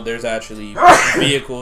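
A single abrupt, explosive human sneeze cuts into the middle of casual conversation, with speech just before and after it.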